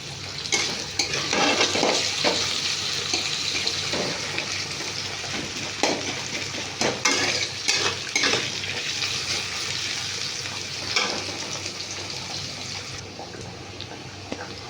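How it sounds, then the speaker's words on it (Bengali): Onions fry in a pan in a steady sizzling hiss, broken by scraping stirs and occasional clatters of the spoon against the pan, continuous throughout. "পেঁয়াজগুলো ভাজা ভাজা হোক"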